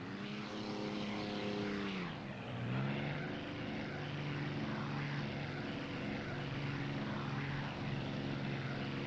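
A Spitfire's propeller engine drones steadily in a video game with U.S.S. Hornet carrier operations, its pitch dipping briefly and then settling into a constant, moderately loud hum, with no talking over it.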